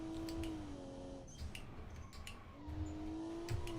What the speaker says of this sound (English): The turbo sounds are really cool.